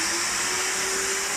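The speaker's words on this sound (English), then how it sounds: "It's quite loud because it's basically a Hoover with a water spray." A loud, steady carpet cleaner motor whine, vacuum with water spray, with a constant high-pitched hum running unbroken throughout, no voices.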